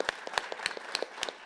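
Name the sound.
audience applause for debate speakers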